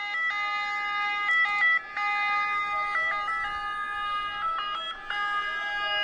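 Emergency sirens wail steadily and loudly, several overlapping tones holding and shifting pitch together, with brief breaks and no voices, at an event where medics take part.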